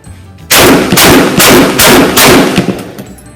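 Gunshots from test firing of Remington 11-87 and CMMG .22 guns: five loud, sharp shots in quick, even succession, close by, with no talk.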